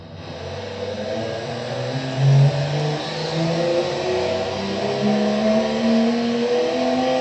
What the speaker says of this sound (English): Now let's listen to the motor.